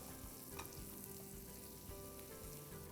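Minced garlic frying in melted butter in a pan, stirred, a steady close sizzle with soft scraping of the spoon and no talk throughout.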